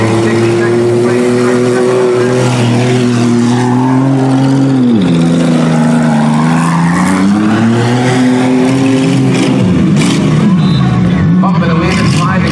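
Stock full-size cars at a demolition derby, engines roaring and revving loudly with rising and falling pitch, tires scrabbling and impacts amid the din, while an announcer talks over the action.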